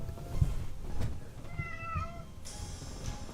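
Cat meowing in the Crimson Gray video game: a few short, fairly close meows with rising and falling pitch, followed by a brighter hiss-like burst near the end, with no voices.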